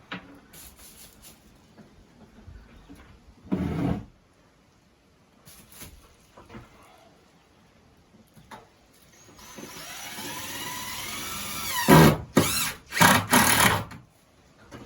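Brief bursts of a power drill whirring at close range while building shelves in a pallet cabin, with a longer rising run followed by a few short, sharp spurts.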